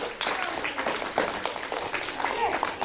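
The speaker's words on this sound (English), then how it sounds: "Give him a clap." A classroom of Year 8 students claps for a classmate, producing a short burst of scattered clapping with voices mixed in.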